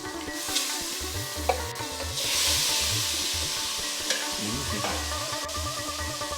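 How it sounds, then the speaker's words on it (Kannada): Tomatoes hit hot oil in a pan with a bright, steady sizzle and hiss, while a spoon stirs and scrapes in a repeating rhythm, close and fairly loud with no talking. "ಈಗ ಎಣ್ಣೆ ಕಾದಿದೆ, ಈ ಟೊಮೆಟೊನ ಇದಕ್ಕೆ ಹಾಕ್ಬಿಡೋಣ."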